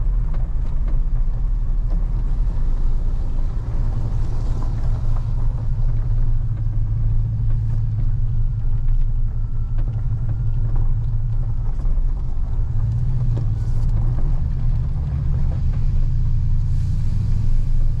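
A Sierra or Silverado pickup truck with a 4L80e transmission swap and a torque converter that will not lock drives along a road, its engine a loud, constant low rumble throughout, heard from inside the cab.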